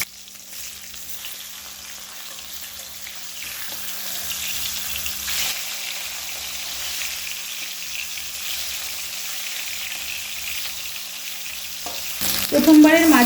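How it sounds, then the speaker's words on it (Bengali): Snakehead (shol) fish pieces fry in hot oil in a pan, browning lightly. A steady close sizzle runs throughout, growing louder and busier near the end as the pieces are turned. "মাছের একটা সাইড ভাজা হয়ে গেছে, এবার উল্টে দিয়ে অপর সাইডটা ভেজে নেব।"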